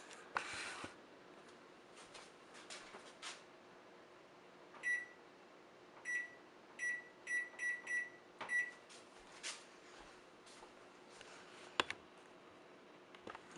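An oven timer is set with a run of short electronic beeps, several single and clustered tones in a quiet kitchen, with faint clicks and handling noises around them.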